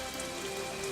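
Steady rainfall on a surface, a continuous close hiss of drops with a faint tonal hum in the background and no speech.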